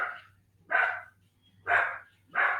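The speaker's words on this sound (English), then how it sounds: "The dogs are all barking." Dogs bark three times in steady, evenly spaced woofs, moderately close, over a low hum during a quiet gentle yoga session.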